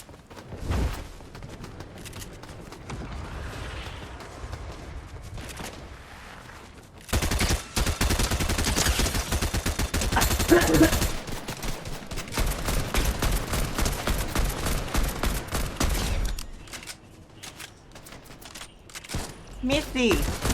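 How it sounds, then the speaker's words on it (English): Bursts of gunfire in Fortnite, rapid cracking volleys clustered in the middle stretch, moderately loud and mixed under a player's talking. "did someone just try to shoot?"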